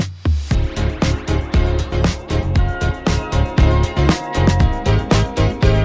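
A dense, punchy music mix without compressor saturation, with steady kick and snare hits driving a regular beat, loud and full throughout.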